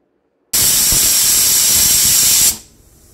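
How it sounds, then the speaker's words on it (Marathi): A pressure cooker in a home kitchen lets out one loud, sustained steam whistle of about two seconds that starts abruptly and then fades into a soft hiss. "आता कुकरच्या पण पॅरलली शिट्ट्या होत आहेत"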